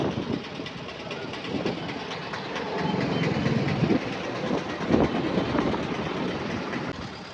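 A 3:30 train passes at close range with a steady heavy rumble and rhythmic clickety-clack of wagon wheels, swelling louder midway and staying constant to the end, with no talking.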